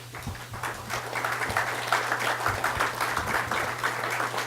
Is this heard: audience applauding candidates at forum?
yes